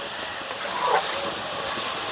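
Tomatoes seasoned with salt and turmeric simmer covered in a pot over low flame for a vegetable curry with potato, pointed gourd and paneer, giving a steady close hiss of steam and bubbling with no pauses.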